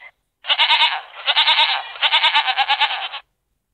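A goat bleats loudly and close up in a long, wavering, quavering cry with a short break partway through, then falls silent.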